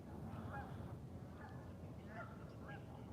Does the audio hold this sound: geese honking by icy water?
yes